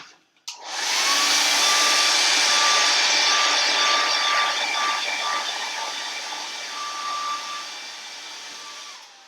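A handheld dryer blows steadily on a craft piece, switching on with a click and holding a loud, even whooshing hum that eases slightly toward the end, with no talk.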